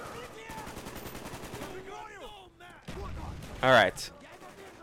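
Rapid gunfire from a death machine in the Call of Duty: Black Ops game, repeated bursts near and loud with a sharp louder burst late, heard under brief talk.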